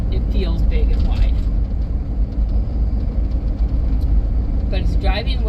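A 2003 Hummer H2 climbs a hill, its engine a steady low rumble with continuous road and cabin noise throughout, while someone talks over it.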